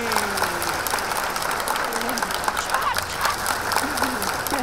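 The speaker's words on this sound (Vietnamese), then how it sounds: "Vỗ tay" Studio audience applause on a Vietnamese TV game show, steady and moderately loud, with a host's voice and brief tonal calls rising over the clapping.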